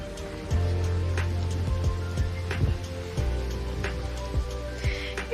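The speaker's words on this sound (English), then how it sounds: "It is raining." Rain falling steadily in the Amazon rainforest of Ecuador, heard from a sheltered hammock area, with a low constant hum and scattered clicks and drips over a soft, even patter.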